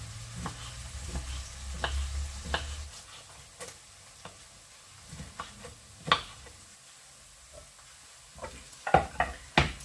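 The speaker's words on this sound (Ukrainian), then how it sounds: "Поки смажилась цибулька" Chopped onion frying in a pan, giving a soft steady sizzle with scattered clicks and stirring scrapes, and a few sharper knocks near the end; no talk.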